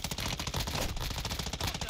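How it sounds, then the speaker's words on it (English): Rapid automatic gunfire from AI bots rattles nonstop in the video game DMZ, dense loud bursts that fill the whole stretch with no talking. "those are bots shooting at us as well"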